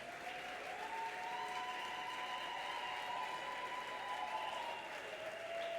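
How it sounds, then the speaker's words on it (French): Sustained applause from a church congregation during a worship service, a steady wash of clapping heard from a distance with a tonal hum or music held underneath. "Donne une puissante offrande d'acclamation à Jésus."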